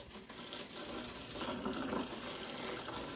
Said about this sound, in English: get like a milk jug. But yeah, you just kind of dump it in there.